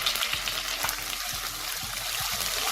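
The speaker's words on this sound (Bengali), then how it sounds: "এটাকে আমি আদা কাঁচা গন্ধটা যতক্ষণ না যাবে ততক্ষণ আমি একটু 2-3 মিনিট এটাকে তেলে নাড়াচাড়া করে নেব।" Ginger paste frying and being stirred in hot oil with panch phoron for a Bengali mixed vegetable dish, giving a steady close sizzle broken by soft scraping strokes.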